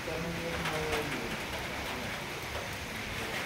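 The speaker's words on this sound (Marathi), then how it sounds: "हो हो, जास्त पाऊस चालू झाला." Heavy rain pours down in a steady, dense hiss that stays loud and even throughout.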